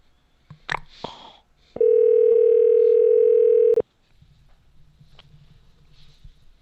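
A telephone dial tone, steady and loud, sounds for about two seconds after a brief handset rustle and a soft click, with faint line hiss afterward.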